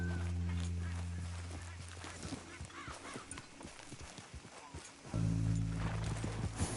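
Horse hooves clip-clopping at a steady walking rhythm in the Red Dead Redemption 2 video game, moderately close under a low droning music bed, with a brief word of speech.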